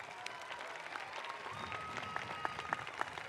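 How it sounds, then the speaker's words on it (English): A high school graduation audience applauds students in a steady, crowded patter of clapping that carries on throughout, with a few sharper nearby claps and faint crowd murmur underneath. "Let's have another round of applause for these students."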